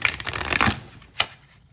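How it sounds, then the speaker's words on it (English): Tarot cards riffle in a quick shuffle at close range, a papery flutter lasting under a second and then one more short snap of cards. "So I'm shuffling these."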